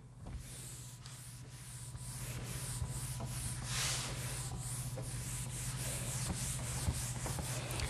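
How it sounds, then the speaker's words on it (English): A rag rubs across a board to wipe it clean in a cold garage, giving soft, steady swishing strokes at close range, continuous and fairly quiet with no talking. "my standard eraser just won't cut it. I have to use the rag."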